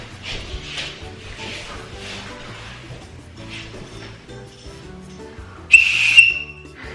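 A whistle is blown once near the end, a sudden loud shrill blast after a stretch of quieter indoor sounds.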